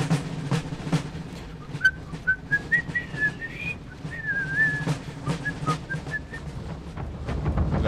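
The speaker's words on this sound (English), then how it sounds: "very dramatic whistling of the British Grenadiers" A whistled British Grenadiers march tune in the battle game Napoleon: Total War, a clear melodic line carried over a low rumble of battle ambience and scattered sharp bangs.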